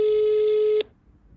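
A telephone tone sounds as a single steady electronic beep lasting under a second and then cuts off abruptly, loud and alone.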